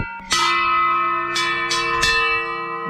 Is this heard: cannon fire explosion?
no